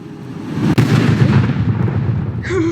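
A loud burst of gunfire and explosions erupts in a Roblox Fortnite-style shooter, dense crackling blasts and rumbling over about three seconds, with a sharp crack early and a brief tonal game sound at the end.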